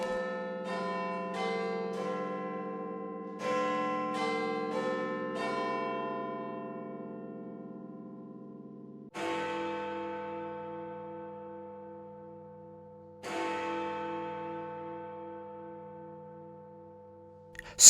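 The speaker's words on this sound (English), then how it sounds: "Then the bell began to strike again." A clock bell chimes a short melodic peal, then strikes two o'clock with two deep, resonant strokes, each ringing out and slowly decaying, clear and alone.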